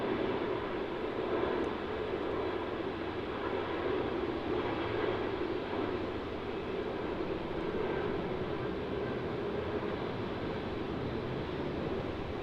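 An airliner landing on runway 16 at Melbourne Airport gives a steady, broad jet roar throughout, a continuous rumbling wash of engine noise at fairly even loudness with no voices.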